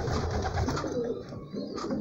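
Pigeons brooding eggs at a nest give soft, low, repeated cooing, close by and steady across the moment with no talk.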